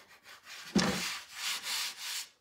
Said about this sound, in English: now you just take your fingers and the big fancy word burnishing